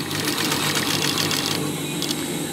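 A sewing machine runs steadily while stitching a curved fabric edge, a close, continuous rapid mechanical whirring heard alone for the whole stretch.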